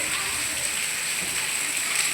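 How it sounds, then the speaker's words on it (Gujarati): Steady, dense rain hissing on surfaces, a continuous even wash of sound with no pauses. "કેવો બધો વરસાદ આવી ગયો"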